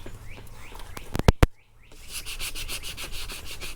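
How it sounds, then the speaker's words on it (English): Hand sanding of body filler on a Box Chevy Caprice, feathering the edges smooth before paint: a steady, close abrasive rasping with a pair of sharp knocks partway through. "feather edge all this, get it smooth."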